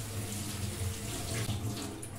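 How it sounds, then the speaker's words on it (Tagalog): Harvested strawberries washed under a running kitchen tap, water splashing steadily and continuously, close and fairly loud with no pauses. "hugasan natin ang ating strawberry"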